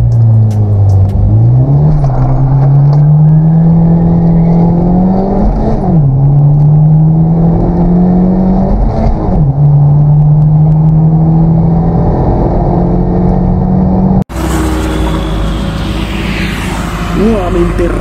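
A Hyundai Genesis Coupé 2.0T accelerates hard in a drag race against a naturally aspirated 2-litre Mazda 3, the loud engine rising through several gear shifts before cutting abruptly, with voices talking over it.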